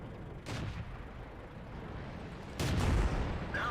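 A KV-1S heavy tank firing its cannon in World of Tanks, two sharp booming blasts about two seconds apart over a low steady battle rumble, moderately loud and with no one speaking.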